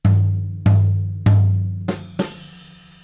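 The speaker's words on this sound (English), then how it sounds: "So right hand on ride cymbal, left hand on snare for 4 and." Drum kit pattern for a Grade 1 piece, ride cymbal in the right hand and snare in the left striking together: three strong, evenly spaced hits with ringing decay, then two lighter strokes, close and with no talk.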